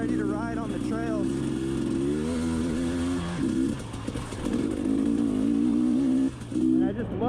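Engine of a 2022 GasGas EC300 two-stroke dirt bike, a continuous buzzing drone rising and falling in pitch with throttle changes, steady and fairly loud with a voice speaking over it.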